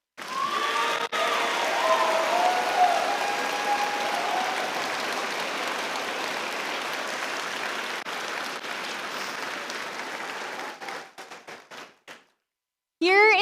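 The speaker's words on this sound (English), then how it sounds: "please give a big round of applause to thank your coaches and mentors" Audience applause for student coaches and mentors at a robotics district competition, a steady wash of clapping that holds for about ten seconds before thinning out and stopping, with a voice briefly starting up at the very end.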